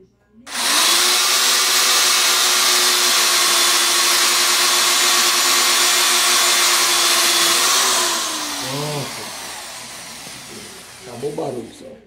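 Power drill boring another hole in a wooden broom handle, a loud steady whine that runs for about seven seconds and then winds down, followed by someone speaking Portuguese.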